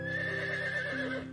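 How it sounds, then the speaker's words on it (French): A cartoon horse lets out a clear, sustained whinny with wavering pitch that dips and trails off at the end, heard alone and up close. "C'est Prince, ton nouveau cheval"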